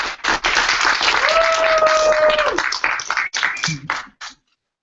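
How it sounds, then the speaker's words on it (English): An audience at a conference session gives a round of applause, dense clapping that runs for about four seconds before thinning into a few scattered claps and stopping; a brief tone sounds partway through. "We'll give you one more round of applause."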